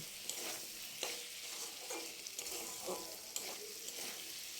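Ginger garlic paste with ground cumin, coriander, chili, Kashmiri chili powder and salt being stirred in a hot pan for ghugni, making a soft, steady sizzle with gentle scraping strokes about once a second, quiet and without talk.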